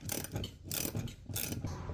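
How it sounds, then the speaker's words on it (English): A regular wrench tightens a part on a BC Racing coilover being rebuilt, giving close, quiet ratcheting clicks in short bursts with brief pauses between them. "So I'll use a regular wrench. Just get it tight enough."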